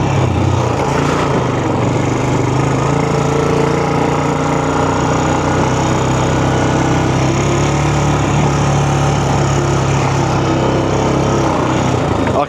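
A Honda Recon 250 ATV engine drones steadily and loudly on a dirt trail at the Enoree OHV Trail System, on SunF tires, with a continuous mid-pitched hum and rumbling vibration throughout, no talking.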